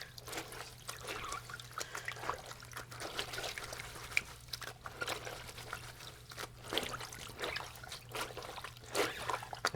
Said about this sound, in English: as I'm putting the thicker garments into the sink, as I'm finished with them, you want to add more water into the sink